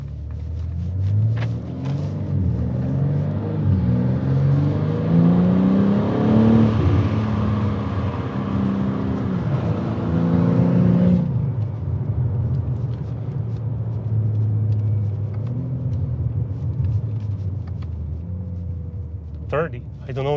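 A BMW M3 Competition engine rumbles and rises in pitch as the car accelerates, a loud, steady drone with climbing revs heard from inside the cabin, then settling into a sustained hum.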